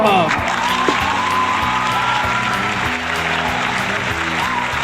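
A live audience at a honky-tonk radio show applauds loudly and steadily, with scattered cheers and whoops in a dense, near wash of clapping. A voice speaks over it.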